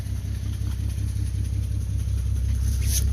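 An engine idles steadily with a low, even rumble and faint mechanical clatter, close by and unchanging throughout, with no voices.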